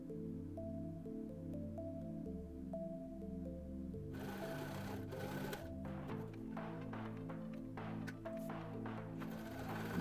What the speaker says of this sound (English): Now we are sewing the top.